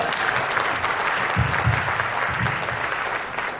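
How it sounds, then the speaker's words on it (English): A room full of people claps steadily, a dense wash of applause holding at even loudness throughout. "I want a round of applause for her."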